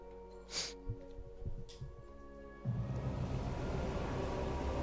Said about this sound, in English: That was not me sniffing, by the way.